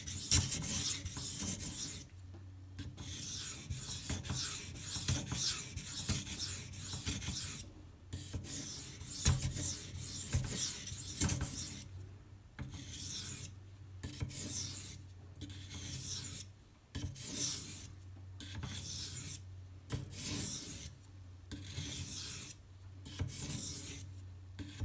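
A Spyderco Endela knife in K390 steel is drawn across a 1000-grit Gritomatic silicon carbide stone, making close, rhythmic rasping strokes in repeated runs broken by short silent pauses, with no voices.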